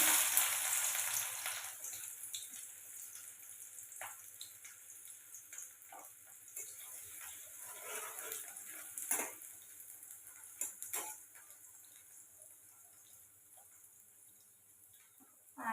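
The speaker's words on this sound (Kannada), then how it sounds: "ಈಗ ಉಳ್ಳಾಗಡ್ಡಿ ಹಾಕ್ಲಿಕ್ಕೆ ನೋಡ್ರಿ." Sliced onions frying in hot oil in a pan in a village kitchen, a steady soft sizzle with light crackle and occasional clinks and stirring sounds throughout, no talking.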